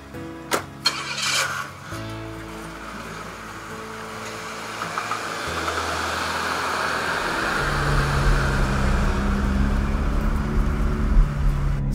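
Car doors thump shut, then an engine cranks and fires, settling into an idle before revving and pulling away with a growing rumble and road noise, heard up close without speech.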